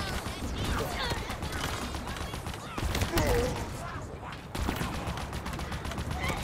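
Sniper rifle fire in the video game Halo Infinite, sharp cracks among continuous combat noise, with some talk underneath.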